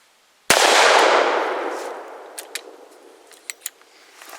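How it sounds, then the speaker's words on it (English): A Smith & Wesson Model 629 .44 Magnum fires a 240 grain jacketed soft point into a concrete block outdoors, one loud sharp close-up crack with a long decaying echo, followed by faint scattered clicks and ticks. "we're going to be shooting a 240 grain jacketed soft point from a Smith & Wesson Model"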